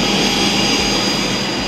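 Steady, loud aircraft engine roar at Yakutsk airport, a dense continuous broadband rumble and whine from a nearby airliner, with no voices over it.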